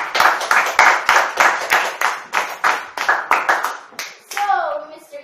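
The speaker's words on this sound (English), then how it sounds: "A round of applause, please." An audience gives a round of applause at a geography class presentation, with about a dozen loud, evenly spaced claps carrying through most of the clip before a voice comes in at the end.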